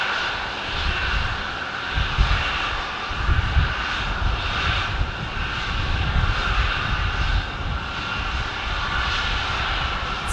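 Airliner engines running during pushback at Phoenix Sky Harbor Airport, a steady loud roar and whine that holds level throughout with no talking.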